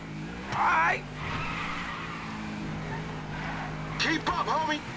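A car in GTA 5 skids with squealing tires and engine roar, then crunching impacts near the end, loud and close under game dialogue.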